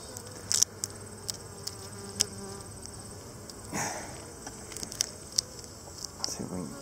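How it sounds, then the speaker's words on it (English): A low, steady drone of buzzing bees hums throughout as mite-treatment strips are removed from a hive, punctuated by scattered clicks and light taps nearby. "Bees are getting just a little stirred up."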